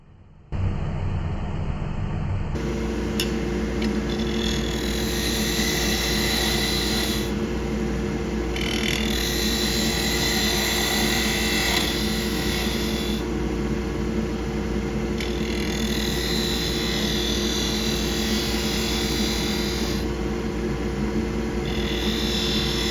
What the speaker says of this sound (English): But just to show you that you can also use a spindle gouge here, I switched to my 1/2 inch spindle gouge.